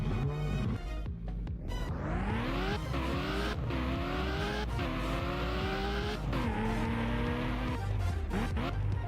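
Roblox Driving Empire car engine revs up repeatedly, the pitch climbing and dropping sharply at each gear shift in a steady sequence, loud and close with game sound and faint tire noise behind it.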